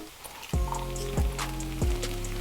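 Pad thai with bean sprouts and spring onions stir-frying in a pan, with three distinct tossing or scraping strokes over a steady sizzle, close by and without speech.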